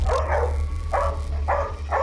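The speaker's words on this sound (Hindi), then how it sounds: "ये आवाज सुनाई दे रही है? कुत्तों का लीडर है ये।" A large, fierce dog barks four times in a slow, even rhythm, loud and close over a steady low hum.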